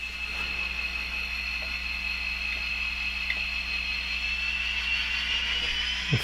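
A model train locomotive runs around its train, giving a steady, continuous motor whine and hum with a few faint clicks from the track, no one speaking.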